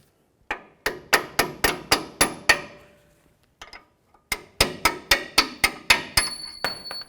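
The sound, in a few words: hammering a bolt out of a Ford F-150 front strut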